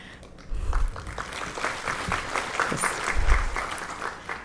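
Loud, sustained applause from an audience at a public health oration, many hands clapping in a dense wash, with low thumps and a brief whistle.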